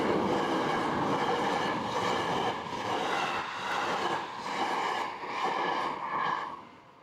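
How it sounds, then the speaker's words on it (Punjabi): A train pulls into a station in Japan, a loud, close rolling rumble with rhythmic wheel clatter and faint squeal that gradually eases and fades as it slows. "ਆ ਗਈ ਟ੍ਰੇਨ।"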